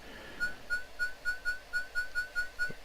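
Attack move sound effect from the Commodore 64 game Korea Karate, a run of about ten short, identical whistle-like electronic beeps repeating at a fast, even rhythm, clear and unaccompanied.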